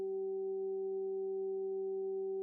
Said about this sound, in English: You are hearing 3 tones: